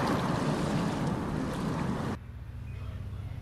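A boat rushes over open water with constant wind and spray noise, loud and close for about two seconds before the roar drops abruptly to a softer rumble of water and engine.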